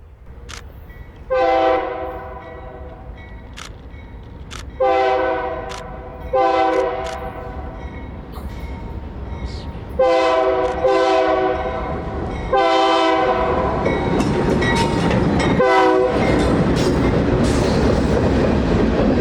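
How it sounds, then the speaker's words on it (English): A local freight train passes near Fort Madison, sounding a loud horn in repeated long blasts that follow the usual crossing pattern, over a rising rumble and clatter of rail cars as it draws close. "we see the local making their way back south with a significantly smaller train than they went north with."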